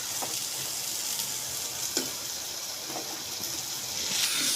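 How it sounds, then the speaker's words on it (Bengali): Onions and shrimp are stir-fried in spices in a pan, a soft steady sizzle with occasional faint scraping as the mix is turned over. "এই যে আমি পেঁয়াজগুলা চিংড়ি মাছের সাথে দিয়ে উল্টিয়ে পাল্টিয়ে কষিয়ে নিচ্ছি"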